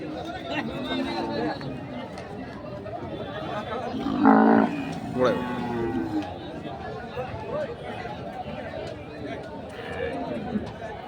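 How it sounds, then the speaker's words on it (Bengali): Bulls moo amid a noisy crowd of chattering people at a Qurbani cattle market in Thakurgaon, with one louder low bellow rising above the steady market din. "হাটের আজকের সেরা এই দুটি সার গরু"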